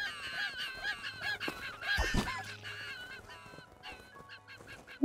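Chicken in the video game Craftopia, heard as a run of clucking and squawking calls with a busy, layered texture, loud and close, with no talk over them.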